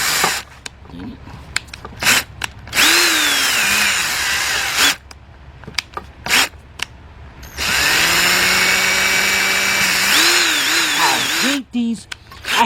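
Power drill fitted with a 1/16 drill bit, several bursts of high whirring that spin up and wind down, with longer runs near the middle and someone talking in between.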